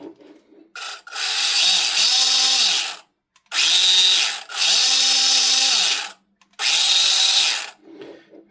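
An RC 1:8 scale outboard outrunner motor, assembled without grease, whirs in three loud, close bursts of a few seconds each, separated by brief pauses.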